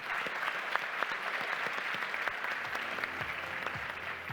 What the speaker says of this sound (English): Give yourself a huge round of applause once again.